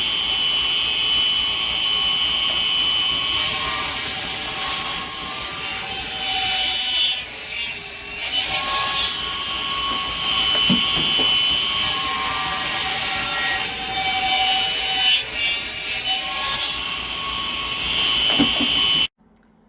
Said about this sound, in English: I'm drilling holes again today.